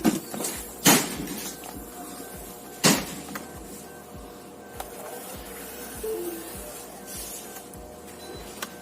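A MacBook A2338 screen clamp is pried loose with a spudger, producing two sharp distinct clicks a couple of seconds apart, with faint scraping and handling noise in between, close and quiet, no talking.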